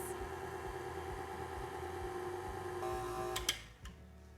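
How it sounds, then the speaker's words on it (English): Electric stand mixer combining strawberry muffin batter hums steadily with a faint rhythmic ticking, then cuts off near the end, leaving a couple of soft clicks and knocks. "you want to turn your mixer on and just let it go until it's just combined"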